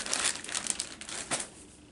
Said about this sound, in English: And yes, there will be crinkling.